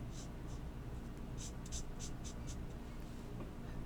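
A bullet-tip marker colors on a stamped Christmas card, shown as a short run of quick, light scratchy strokes coming in bursts over a steady low background hiss. The strokes are close by and faint.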